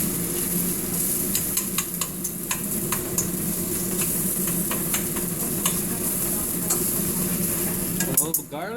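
Chopped onion and garlic sizzle and fry steadily in a hot pan, with a utensil stirring and scraping through the whole stretch, close and continuous, and a brief clatter near the end.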